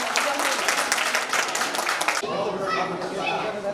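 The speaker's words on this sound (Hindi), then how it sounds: "जोरदार तालियों के साथ हम मैम का स्वागत करते हैं" Loud applause from the audience at a poetry gathering of visually impaired poets, welcoming someone speaker to the stage, dense clapping that eases into softer crowd murmur.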